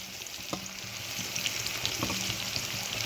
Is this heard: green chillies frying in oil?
yes